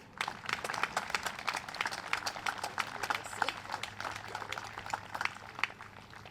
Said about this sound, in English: so please give a big round of applause to April.